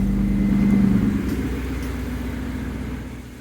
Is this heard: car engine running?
yes